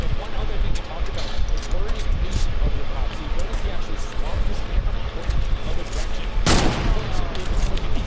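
Gunshots in Fortnite during a world cup match, a busy stream of rapid shots mixed with game noise and a player talking, with one loud burst standing out late.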